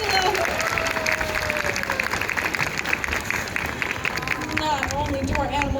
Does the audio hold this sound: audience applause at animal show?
yes